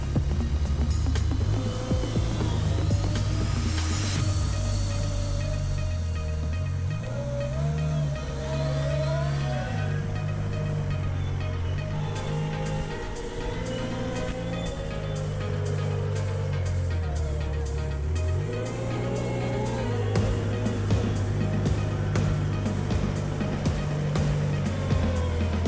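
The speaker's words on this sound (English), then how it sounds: "we can transport them as close as possible to the installation spot on pallets with our Komatsu" A Komatsu WA-80 wheel loader carries precast concrete retaining-wall panels on pallets, its diesel engine droning continuously with rising and falling revs and a steady mechanical whine throughout.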